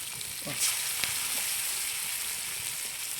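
Coconut-based food sizzles and fries steadily in hot oil in a pan, turned over partway through with a faint scrape, a continuous close crackling hiss with no talking.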